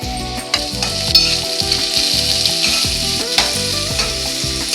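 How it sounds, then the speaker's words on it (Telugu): Onion and green chili pieces sizzle steadily in hot oil in a pan, a dense continuous frying hiss with occasional spatters and stirring clinks throughout. "గోల్డెన్ కలర్లోకి వచ్చేదాకా మనం ఈ ఉల్లిపాయ ముక్కలు వేయించుకుందాము"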